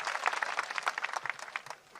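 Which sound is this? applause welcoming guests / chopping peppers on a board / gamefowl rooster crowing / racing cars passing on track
applause welcoming guests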